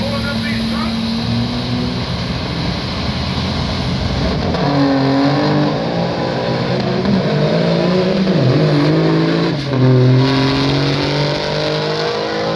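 Semi trucks revving and accelerating hard in a diesel drag race, loud engine drone with rising pitch sweeps as the trucks pull away, over a steady roar, with an announcer talking over it.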